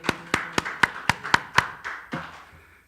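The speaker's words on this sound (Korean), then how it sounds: "우리 하나님께 영광의 박수 한번 돌려요." A church congregation claps in unison during a Korean sermon. About eight or nine sharp, evenly spaced claps ring out, then a few softer, looser ones trail off into quiet.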